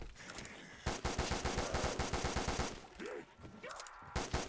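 Rapid automatic gunfire from a weapon in Black Ops 3 Zombies, a steady burst of closely spaced shots lasting about two seconds, then a pause with scattered game sounds before another short burst near the end.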